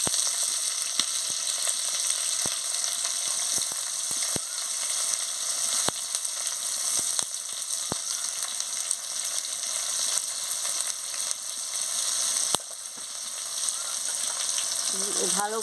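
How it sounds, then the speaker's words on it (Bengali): Chopped onion fries with whole cumin in a pan, a loud, continuous close sizzle with scattered crackles and occasional spatula taps throughout, with no talk. "ভালো করে পেঁয়াজটাকে ভেজে নিচ্ছি"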